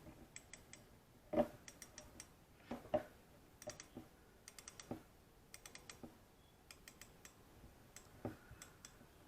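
Quick bursts of sharp ratcheting clicks from an Okuma fishing reel's drag as a good fish pulls line, coming in short irregular runs separated by brief pauses, fairly faint.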